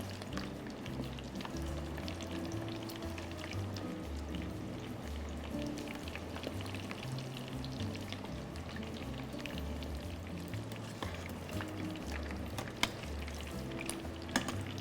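Prawns fry in a pan with a continuous dense sizzle and crackle, steady and fairly close throughout, with a few sharper pops and spatters.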